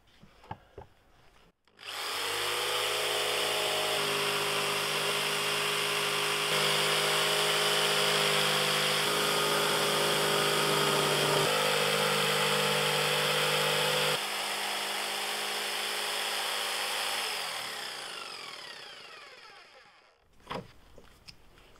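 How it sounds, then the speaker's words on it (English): A jigsaw cuts through a ceramic tile table top, a loud sustained buzzing rasp that runs for most of the clip, shifting in pitch slightly before winding down and stopping. "It's a jigsaw with I don't know what kind of blade that is."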